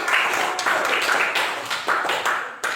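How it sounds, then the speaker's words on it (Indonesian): Small audience clapping for the first presenting group in a classroom, a few hands beating in uneven bursts that swell and fade, fairly close and loud. "tepuk tangan untuk kelompok 1"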